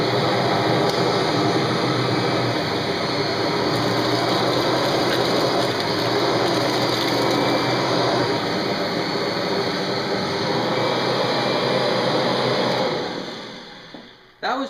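A Kirby Generation 3 vacuum cleaner runs on high pile carpet, a loud, steady broadband motor roar held nearly constant for about thirteen seconds before cutting off abruptly near the end.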